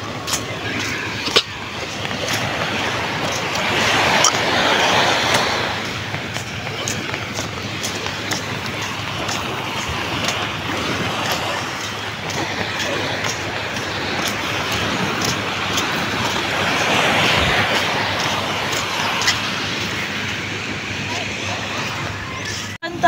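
Sea waves wash and surge continuously along a beachfront, in a broad, rolling rush that swells and fades over steady wind-like noise, fairly loud and close. People talk at times through it.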